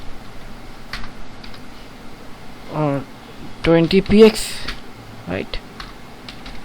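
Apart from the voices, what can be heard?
typing on a computer keyboard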